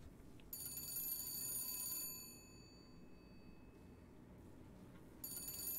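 Old-style telephone bell ringing in the video game Bioshock Infinite, a bright repeated electric ring in two bursts with a pause between, over a low steady game ambience.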